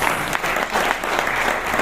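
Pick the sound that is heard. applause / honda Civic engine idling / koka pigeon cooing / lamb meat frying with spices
applause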